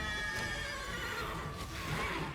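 Roach the horse whinnies in The Witcher 3, a loud, sustained neigh with wavering pitch running about two seconds, with no talk over it.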